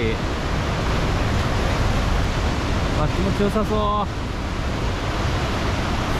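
Surf at Bondi Beach in Sydney on a day of high waves, a steady loud wash of breaking water filling the whole stretch, with someone speaking briefly over it.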